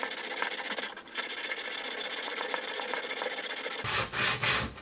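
A wood chisel being flattened by hand on a 300 grit sharpening stone with a non-skid bottom, giving a loud, continuous close-up scraping rub, a brief pause near the start, then a few heavier strokes.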